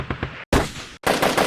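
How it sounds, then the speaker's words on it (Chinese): Gunfire sound effect for a war scene: three close, loud bursts of rapid automatic fire, each a rattling string of quick shots, separated by brief silent gaps. "还有一些枪声"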